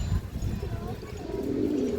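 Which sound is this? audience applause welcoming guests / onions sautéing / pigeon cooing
pigeon cooing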